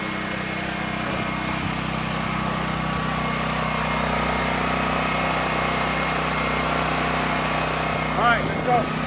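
A portable generator runs steadily nearby, a constant engine drone with a humming tone that holds level throughout, a brief faint sound near the end.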